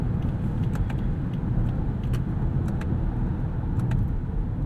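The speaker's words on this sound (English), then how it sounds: "we've got a little bit more induction noise piped through the cabin" Inside the cabin of a 2018 Lexus LS 500 AWD in Sport Plus on curving roads, a low, steady induction rumble and road drone fill the space at moderate level, with faint light rattles above it and no talking.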